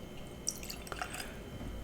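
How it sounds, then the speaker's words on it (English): Blanton's Barrel Proof bourbon trickles into a glass in a short, quiet pour, a few soft drips and splashes close by in an otherwise still room. "Gonna pour a little"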